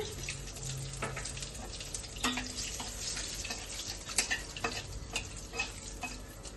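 Cumin seeds and a couple of dried red chillies crackle in hot oil, a constant close sizzle punctuated by sharp pops and light stirring taps, no voices.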